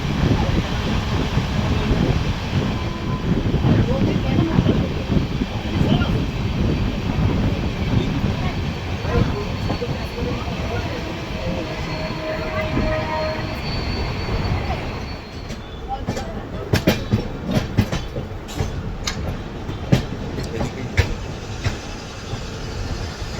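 Swarnarekha Express train pulling into Purulia station: a steady, loud rumble of carriages rolling close by for most of the stretch, easing toward the end, with sharp clanks and clicks of wheels over track joints in the final seconds.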